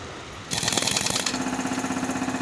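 Truck engine arriving at a roadside tyre puncture repair spot, a quiet hum suddenly jumping into a loud, rapid rattling chug that settles into a steady pulsing idle.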